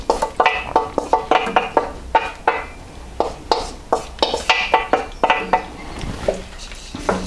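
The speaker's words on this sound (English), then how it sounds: "And then add all of that pasta in with the cheese sauce into the pan." Cooked pasta is stirred into cheese sauce in a pan, a spoon knocking and scraping against the pan in a quick, close, irregular series of clinks and soft wet stirring sounds, with no voices.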